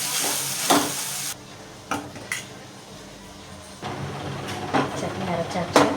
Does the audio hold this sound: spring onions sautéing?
yes